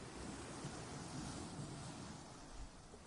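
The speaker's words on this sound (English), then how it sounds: "A slow, steady hush, waves arriving, waves leaving, again and again, without effort" Ocean waves wash onto a Scottish Highlands shore near Nairn in the evening, a soft, continuous distant hush with faint wind and no clear individual breakers.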